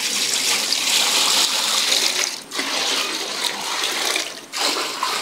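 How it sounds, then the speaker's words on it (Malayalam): Water gushes steadily into a cooking pot set on a lit stove, a loud continuous splashing pour with two brief dips, and no voices. "വെള്ളം ഒഴിക്കുവാണ്."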